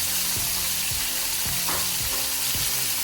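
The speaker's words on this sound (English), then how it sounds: "Let it simmer a little bit." Jerk sauce simmers and sizzles steadily in a pan, a continuous close frying hiss broken by a few soft stirring clunks, with no talking.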